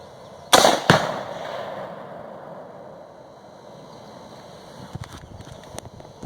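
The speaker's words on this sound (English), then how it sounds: "now we saw what kind of an explosion a half pound of Tannerite will do" Rifle shot setting off half a pound of Tannerite explosive: a sharp loud double crack, a blast right after the shot, then fading rumble and a few faint knocks later.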